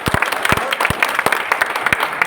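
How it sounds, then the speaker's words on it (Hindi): Scattered audience claps for Avdhesh Gurudev at a public gathering, a sparse series of sharp individual hand claps rather than a full roar, fairly close and steady across the moment. "अवधेश गुरुदेव के लिए एक बार जोरदार तालियां।"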